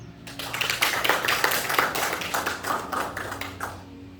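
An audience at a seminar on spiritual revival breaks into applause, a dense crackle of many hands clapping that rises quickly and holds steady for several seconds before thinning out, with no speech over it.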